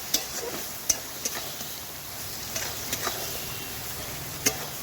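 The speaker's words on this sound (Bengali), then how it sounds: "এবার এই আলুর সাথে একসাথে ভালো করে আমি একটু নেড়ে চেড়ে নেব" Potatoes and ground prawn heads fry together in a pan, a soft continuous sizzle up close with scattered light clicks and scrapes from stirring.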